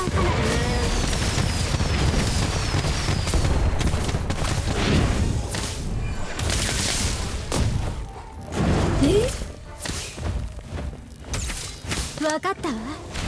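Fireworks burst in the Hogwarts Legacy video game: loud, dense booms and crackles with a few rising whistles, thinning into scattered pops and magical effects toward the end.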